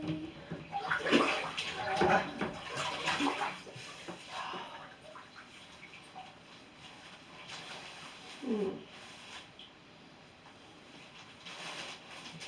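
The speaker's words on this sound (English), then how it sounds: "Getting in the bathtub." Bathtub filling with running water, a steady rushing splash that stays up close throughout, louder at the start with occasional brief knocks and splashes.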